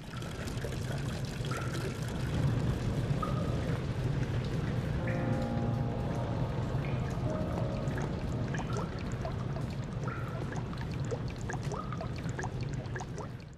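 Water pours steadily into a jar in the horror game Amnesia: The Dark Descent, a continuous splashing wash lasting throughout, fairly close with faint tonal game sounds in the background.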